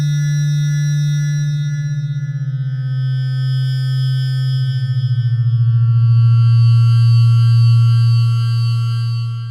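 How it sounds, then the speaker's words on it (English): A wavetable synth oscillator holds one sustained tone, loud and alone, as the modulation depth rises and the pitch and timbre begin to wobble and pulse more strongly. "now I'm going to increase the depth of the oscillator, which in this case will basically be a volume control."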